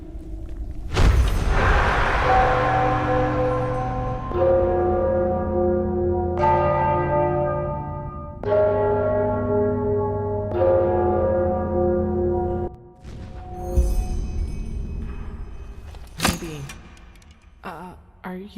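Church bells ring in Enderal: Forgotten Stories, a series of loud, sustained tolls in overlapping harmonic peals that swell and repeat, ending with a few scattered clangs near the close, with no talk over them.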